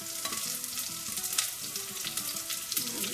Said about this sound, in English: You don't have to fry these onions too much, just to start out a little bit until it gets a little softer